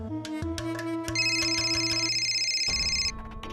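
A phone's ringtone plays a melodic pattern of bright repeating electronic tones, clear and alone with no talking, in a scene from a Marathi TV serial.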